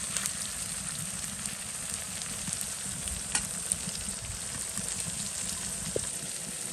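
Onions frying in a pan with ginger and garlic added, a steady soft sizzle with occasional light clicks of stirring and no talk.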